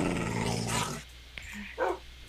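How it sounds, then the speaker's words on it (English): Tamed dogs in the Minecraft video game give a few short, faint growls and yelps after a stretch of talking. "Come on, dogs. Good doggies."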